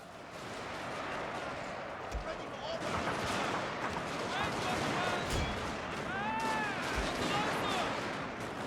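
Infantry muskets firing in a Total War battle, with scattered volleys and cracks rolling over a thick, constant roar of battlefield noise, plus brief whining tones in the background.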